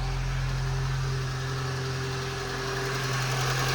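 A Peugeot 306 with a 1.4 engine idles steadily after starting, giving a smooth, even hum with a low constant drone, close by and with no talking.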